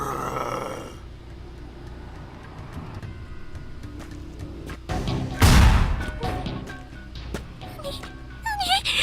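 In the video game Corpse Party: Book of Shadows, after a quiet stretch, a heavy thud and crash sound as a body lands on a table, followed by faint rustling and a few creaks.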